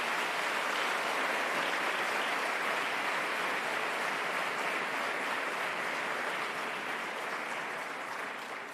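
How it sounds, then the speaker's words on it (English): A graduation ceremony audience applauds steadily, with a dense, even wash of clapping from a large crowd that holds at a moderate level and fades slightly toward the end. "if we could give those guys a round of applause"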